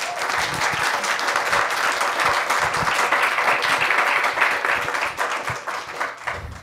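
Steady applause from a sizable audience at a talk, dense clapping sustained throughout at an even level.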